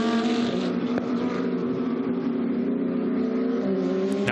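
GT2 race cars at Paul Ricard accelerate hard onto the Mistral straight, a steady loud engine roar with rising harmonics that holds throughout, no voices over it.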